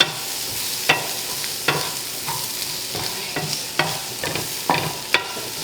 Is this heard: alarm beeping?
no